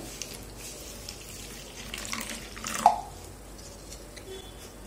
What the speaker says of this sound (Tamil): இது முழுகிற அளவுக்கு மட்டும் தண்ணி ஊற்றிக்கோங்க